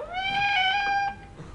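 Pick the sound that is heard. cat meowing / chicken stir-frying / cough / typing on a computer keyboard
cat meowing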